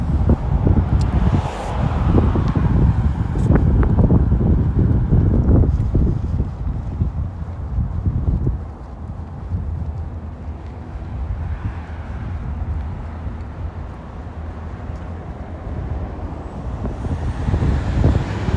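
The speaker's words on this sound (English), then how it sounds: "So it's gonna be a lot of traffic out here, and I apologize for the noise." Traffic roars past on a main road leading to the interstate near the FBI building in downtown Birmingham, Alabama, with heavy wind buffeting the microphone as vehicles rumble loudly by in waves.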